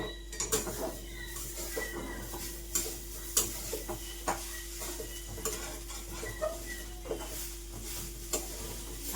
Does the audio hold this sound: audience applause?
no